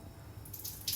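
Water runs from a shower at a camping ground in Puncak, Bogor as a brief, faint hiss and patter. The splashing brightens toward the end of the moment, with no voices over it.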